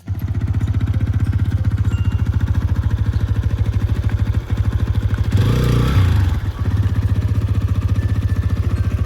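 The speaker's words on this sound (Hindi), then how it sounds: "बैक करके लगा रहे हैं ये बाइक" A motorcycle engine runs close by with a steady low idle throb as the bike is backed up and parked at the foot of temple steps, with a brief burst of revving and clatter in the middle.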